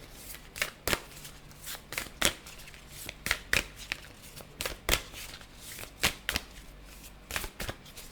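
Tarot cards are shuffled by hand in a steady series of crisp riffling snaps, repeated roughly every half second and close up, with soft rustling between strokes.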